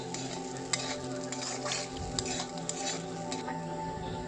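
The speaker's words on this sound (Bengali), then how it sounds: "তো সাগুদানা দিয়ে আমি একটু কম আগুনেই পাকাবো" Sago pearls stirred and fried with potatoes and peanuts in a pan over a low flame for sago khichdi, giving a steady soft sizzle with scraping spoon strokes and light clinks throughout.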